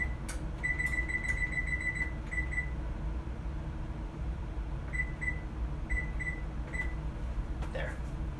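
A kitchen timer sounds in a home kitchen as a cake goes into the oven, with a series of short electronic beeps in groups over a steady hum, and a voice imitates the beeping afterward.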